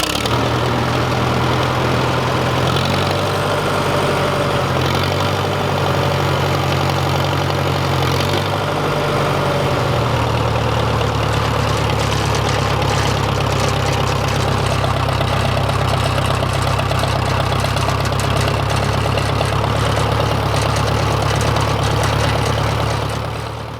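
An International tractor engine runs loud and close, a heavy, rumbling diesel idle that shifts pitch slightly partway through, then holds steady.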